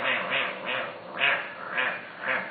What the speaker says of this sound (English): The first one that most people will hear is the crabbing sound, which is the kind of sound they make.